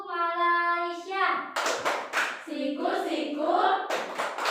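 Children in a classroom chant the Tepuk Malaysia clapping rhyme, their young voices rising in a sung, rhythmic chant punctuated by sharp bursts of hand claps, close and lively.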